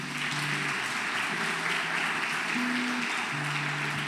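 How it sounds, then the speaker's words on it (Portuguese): Steady applause from a church congregation during a worship service, a dense continuous patter of clapping with low tones or music running underneath. "Vamos aplaudir ao Senhor Jesus?"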